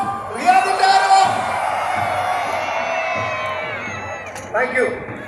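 A crowd at a Palakkad district expatriate association cultural night in Riyadh roars and cheers, loud whoops and shouts swelling together and holding for several seconds, with a second burst of voices near the end.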